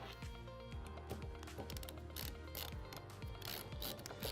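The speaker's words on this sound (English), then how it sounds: "We begin on the end and insert our first screw." A screw being driven into the inner channel of a squeegee assembly, with steady repeating ratchety mechanical clicks and creaks at an even pace throughout, close and moderately loud, no talk.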